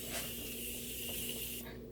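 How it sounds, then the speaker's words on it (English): Morphe setting spray hisses in a soft, continuous mist spritzed onto a face, a faint close burst that stops shortly before the end. "I'm just going to try to get some moisture up in here with my Morphe spray."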